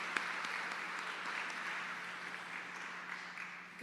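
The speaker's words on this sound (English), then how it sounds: "give an excellent round of applause to welcome Clorinda Bennett Harrison today" Applause from an audience at Michigan Central Station welcoming a speaker to the stage, a soft, even patter of clapping that sounds somewhat distant and holds steady before easing slightly at the end.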